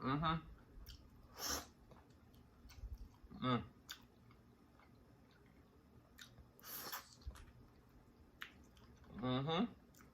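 Oxtail being eaten, with wet, squishy chewing and sucking bursts close to the mic, alternating with quiet pauses and brief talk.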